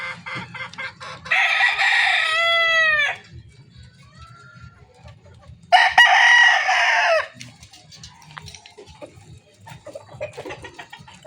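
A two-year-old Golden Boy over Boston gamefowl rooster crows twice, close and loud, each long cock-a-doodle-doo separated by a quiet gap filled with faint clucking and low farmyard rustle.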